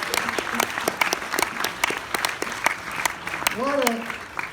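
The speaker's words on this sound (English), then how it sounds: "Let's have a round of applause for this." Audience applause fills a film screening at a 50th anniversary showing, dense steady clapping throughout with a voice speaking over it and a brief whistle-like rising tone near the end.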